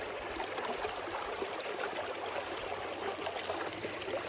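Gentle, continuous babbling of a stream in the Mongolian countryside, soft and steady with small trickling splashes and no voices.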